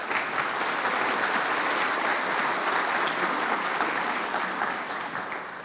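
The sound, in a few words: audience applause at an auditing forum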